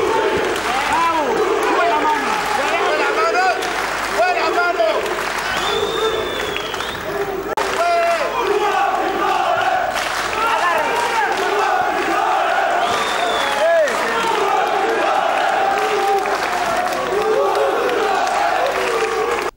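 A large crowd of Albanian fans cheering, chanting and clapping for boxer Nuri Seferi at a boxing event in Berlin, a loud continuous roar with rhythmic chants rising and falling.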